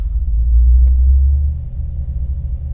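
A car engine idles close up with a deep, steady, slightly uneven rumble, foot off the pedal, alone with no talk.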